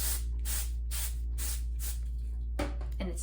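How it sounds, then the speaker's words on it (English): Orbe Dry Texture Spray is misted onto short hair in five or six even, evenly spaced hissing bursts of aerosol, each about half a second long, followed near the end by a couple of handling sounds and a short final spritz. "This is the Orbe Dry Texture Spray"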